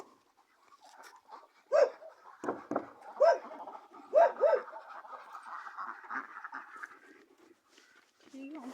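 Dogs bark in several sharp bursts with breathy panting between them, while people talk nearby throughout.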